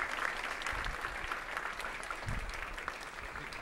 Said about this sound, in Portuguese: vamos recebê-lo com aplausos de boas-vindas, por favor